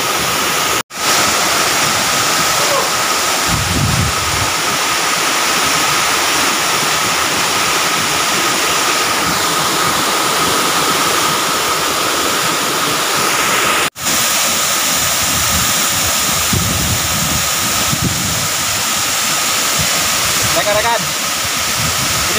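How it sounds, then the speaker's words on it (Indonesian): Curug Cileat, a waterfall about 100 metres high in South Subang, roars as a constant loud broadband rush of falling water close by, with strong wind gusts and brief voices in the background. "Di sini air terjunnya tinggi-tinggi, 100 meteran ya"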